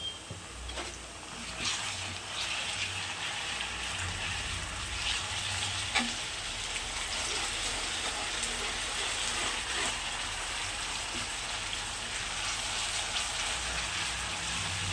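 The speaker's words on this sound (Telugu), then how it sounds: "ఇప్పుడైతే అల్లం ఎల్లిగడ్డ పేస్ట్ వేస్తున్నా" Ginger garlic paste fries in a hot pan with a steady, dense sizzle that holds evenly throughout, with faint scraping of stirring and no talking.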